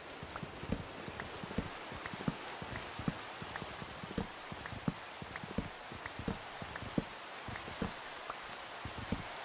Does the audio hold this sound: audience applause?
no